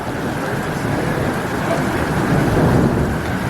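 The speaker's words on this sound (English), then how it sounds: "I told him I didn't want to get stuck in the hail" Heavy storm with hail and rain, a dense continuous hiss of pounding precipitation with deep rumbling thunder swelling underneath, loud and close, no voices.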